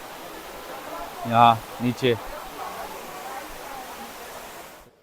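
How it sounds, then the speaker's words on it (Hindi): Steady rushing water flows near the Neelkanth Mahadev temple in Rishikesh, a constant broadband wash heard throughout, with a brief spoken phrase over it. "ये पानी की आवाज़ है जो आपको आ रही है ना"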